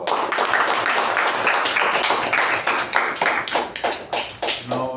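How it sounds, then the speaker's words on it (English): Applause at a Toastmasters club meeting, a few people clapping close by in a brisk, uneven patter that thins toward the end. "let's give one more round of applause."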